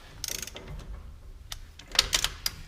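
A torque wrench ratchets on bolts on a 2011 Kawasaki Mule 4010 diesel utility vehicle, giving sharp close clicking bursts separated by quiet gaps, with a quicker cluster of clicks near the end.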